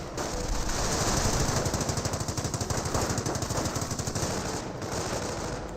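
Machine gun fire in Company of Heroes: a loud, sustained rapid stream of rattling bursts, fast and evenly spaced, continuing for several seconds with no pauses and no talk.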